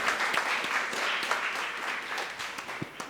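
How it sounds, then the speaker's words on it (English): An audience claps for a children's dance and drama presentation, a moderate, fairly steady round of applause with a few sharper individual claps standing out. "another round of applause for these bundles of talent and knowledge"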